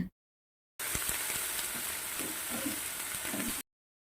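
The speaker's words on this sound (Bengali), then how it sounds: "এবার এর মধ্যে ম্যারিনেট করা চিকেনগুলো দিয়ে দেব। এবার সব ভালোভাবে মিশিয়ে নিয়ে নেড়েচেড়ে নেব।" Marinated chicken sizzles loudly in a hot pan, with scraping and stirring clatters over about three seconds; no talking.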